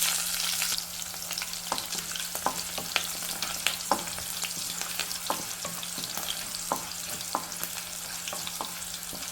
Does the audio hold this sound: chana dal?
yes